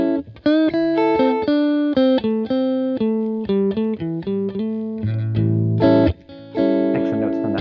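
Electric guitar through an effects unit with light distortion, playing pentatonic blues licks over a single-chord vamp: quick plucked phrases and bends, then sustained chord tones near the end, loud and close.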